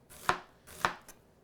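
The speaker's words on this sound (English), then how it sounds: "Showing you cuts on all sides of the onion." A knife chops through an onion on a flat cutting board: two crisp, close chopping strikes about half a second apart, with a fainter third tap after them. No voices.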